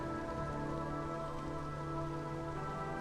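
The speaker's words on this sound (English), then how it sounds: "Precipitation, it's rainwater." Drizzling rain in the video game Against the Storm, a dense, steady patter of drops on surfaces with a low droning hum underneath, constant and unbroken throughout.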